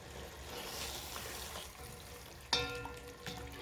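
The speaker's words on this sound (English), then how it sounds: "Now to this I'm going to add some bit of stock." Eggplant sauce sizzles steadily in a pan, then stock is poured in, giving a sudden splash and a louder hiss, with bubbling after it.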